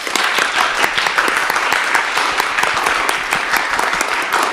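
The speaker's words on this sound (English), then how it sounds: "Will you all join me in a round of applause for our brave volunteer?" Workshop attendees give a volunteer a loud, lively round of applause, many hands clapping densely and continuously for several seconds at close range.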